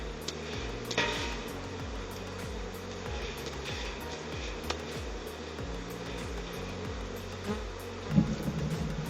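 Honey bees buzz in a steady, close drone while bee packages are being prepared at an apiary, with a few light knocks and clatters over the continuous hum.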